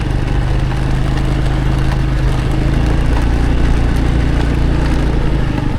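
A farm tractor engine runs continuously at close range on a rural Thai road, a steady, rumbling low chugging drone with no pauses.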